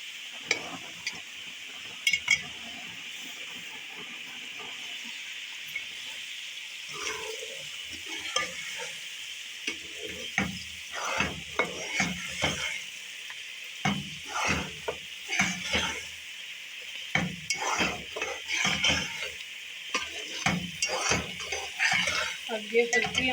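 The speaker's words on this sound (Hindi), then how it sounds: "यहाँ पे अब ये इलायचियाँ भून गई हैं, और अब ये इसमें सूजी डल रही है।" Semolina is roasted with cardamom pods in a pan on low heat, a soft steady sizzle under busy, repeated scraping and stirring strokes of a spoon that grow denser and more rhythmic.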